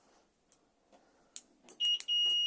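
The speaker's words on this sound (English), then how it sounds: "You also have an alarm fitted to the van, so press once to arm" A motorhome's fitted alarm gives a short series of loud, high electronic beeps as it arms, preceded by faint clicks and rustles, close and clear at the end.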